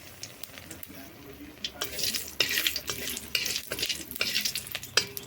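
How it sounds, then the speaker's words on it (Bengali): Green chili, bay leaf and panch phoron crackle and sizzle in hot oil in a home kitchen, a bright frying hiss that swells from quiet to loud with brief stirring clatter mixed in. "এখানে আমার তেল হিট হয়ে গেছে। আমি একটা লঙ্কা ও তেজপাতা ফোড়ন দিয়ে নিচ্ছি। একটু আমি পাঁচফোড়ন দিয়ে নিচ্ছি।"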